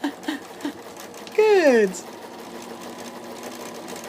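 A sewing machine stitching quilt strips together runs in one short, loud burst of about half a second, with a person speaking briefly before and after it.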